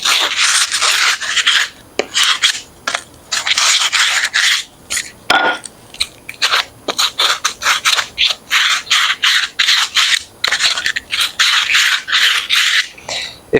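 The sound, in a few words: sandpaper scuffing frayed end of push pole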